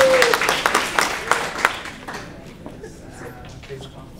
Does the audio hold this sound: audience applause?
yes